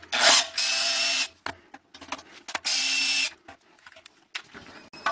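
Power drill backing screws out of the inner shell of a bio-sand filter mold, two loud whirring bursts separated by clattering handling noises and a shorter spin near the end, close by with no speech.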